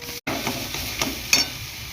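Kharkol leaf paste is stir-fried with browned onions in a pan, giving a close, steady sizzle broken by several spatula scrapes and one sharp clink, with no speech.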